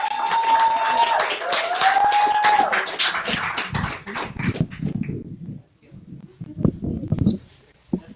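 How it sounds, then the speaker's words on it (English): An audience at an evening event applauds with steady, dense clapping after a stretch of raised voices and cheering, the clapping continuing loud and close with some uneven bursts. "Keep clapping, you guys."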